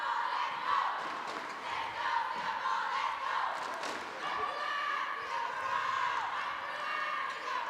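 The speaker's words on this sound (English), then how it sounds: "Cheers for Singapore." A crowd at a para badminton match at the 2015 ASEAN Para Games cheers and chants for Singapore, a steady loud roar of voices with rallying cries running through the whole stretch.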